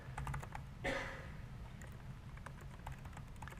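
Fingers type on a computer keyboard, a quiet close run of irregular key clicks with one louder clack near the start, then scattered taps continuing alone.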